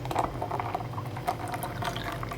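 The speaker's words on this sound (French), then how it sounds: "je vais ajouter un petit verre d'eau comme ceci" A small glass of spring water poured into a glass of ginger, orange and lemon juice, a steady close liquid trickle and fill with faint clinks, no voices.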